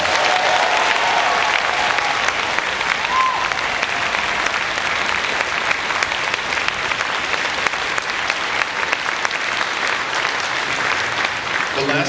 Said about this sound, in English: Give this amazing group of young musicians a round of applause.